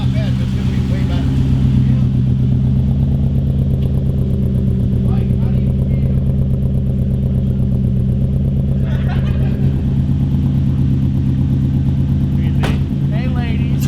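Idling V8 engine in a swapped drift truck running with no catalytic converters and no muffler, a loud deep rumbling drone that holds steady throughout, heard close, with brief bits of talk over it.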